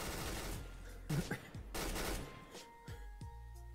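Gunfire in the multiplayer game Trouble in Terrorist Town, with several sharp shot bursts in quick succession, then a few fainter cracks fading into ringing tones.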